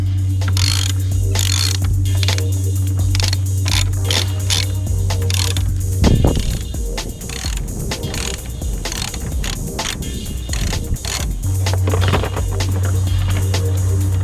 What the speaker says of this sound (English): Gone ahead and got a nice long extension bar to make this easier.